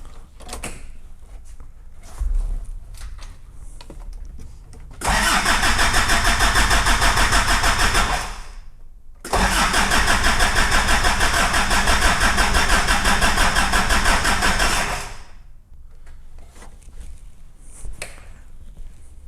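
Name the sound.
Daihatsu Fourtrak engine cranking over but not firing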